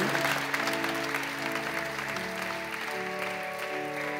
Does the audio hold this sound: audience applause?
yes